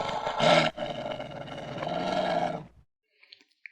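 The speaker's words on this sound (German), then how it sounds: "Das ist dieses tiefe, bedrohliche Geräusch, das bestimmte Tiere machen, um zu sagen: Dich mag ich nicht, hau ab." A low, rough growl from a dog or wolf rumbles steadily for about two and a half seconds, loud and close, then cuts off into near silence.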